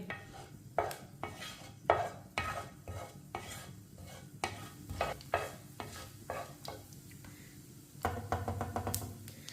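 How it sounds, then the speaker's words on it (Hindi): Half a teaspoon each of whole cumin and coriander seeds roast in a pan for stuffed bitter gourd, stirred in a steady rhythm of scraping strokes over a soft, continuous sizzle. "आधी चमची साबुत जीरा। आधी चमची साबुत धनिया। 1 मिनट के लिए रोस्ट कर लेंगे।"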